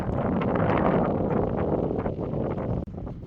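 Strong wind gusts over a frosty mountain trail, roaring steadily and loud against the microphone, with faint rustling beneath the broad, continuous rush.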